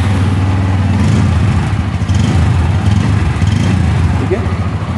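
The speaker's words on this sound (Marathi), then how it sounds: "मी इथं बाईकचं पण साऊंड करून देतो किती असणार आहे." A 2024 Bajaj Pulsar N160 motorcycle engine runs indoors in a showroom, a loud steady idle rumble with slight pulsing that echoes in the room.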